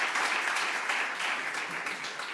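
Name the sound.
audience applause for a composer and musicologist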